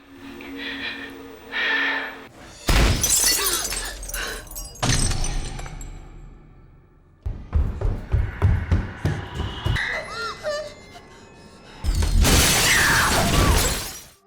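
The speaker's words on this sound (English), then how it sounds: "When a mirror in the room shatters" A mirror shatters in a room during a horror film scene, with loud glass bursts and scattered tinkling fragments repeating across the passage, between quieter gasps and breathing.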